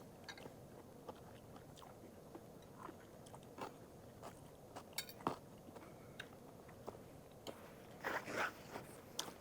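Crunchy diced vegetables for a sea cucumber dish are chewed in quiet, soft crisp bites with small irregular crackles and clicks, close to the mouth, with no talking.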